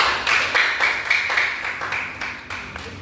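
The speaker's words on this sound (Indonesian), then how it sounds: "Ayo kita beri aplaus untuk kami." A classroom of students applauds group 2, with close, crisp hand claps falling in a quick, fairly regular rhythm that slowly fades over about three seconds.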